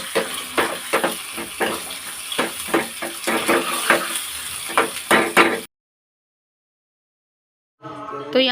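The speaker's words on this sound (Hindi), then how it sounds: "प्याज का तड़का लगा दे रही हूँ" Steady crackling sizzle of onion tempering frying in hot oil for kadhi, then abrupt silence, followed by a brief burst of sound.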